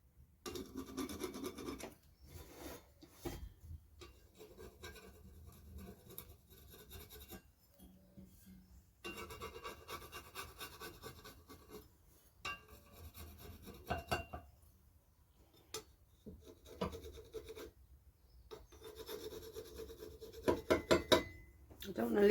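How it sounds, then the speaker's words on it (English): An old scraper picking rust and paint flakes off a metal surface, producing quiet, intermittent raspy scrapes in short bursts separated by pauses. "So I'm just going to use an old scraper just to gently pick away at the flakes."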